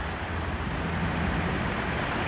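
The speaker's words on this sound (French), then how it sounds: "7-8 minutes de vagues et de vent." Waves and wind at the water's edge, a steady broadband wash of surf with wind buffeting the microphone, continuous and fairly loud with no talk.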